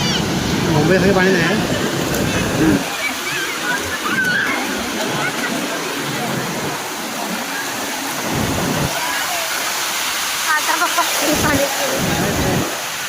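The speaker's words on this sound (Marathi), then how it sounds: "बघा पाण्याच्या लाटा पण बघा कशा येतात" Waves rush and wash ashore at Ganpatipule beach, Maharashtra, in a steady, loud roar of surf, with faint voices somewhere in the background.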